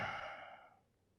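A single long exhaled breath during a gentle yoga stretch, a soft breathy sigh that starts fairly loud and trails off to near silence, with no talking.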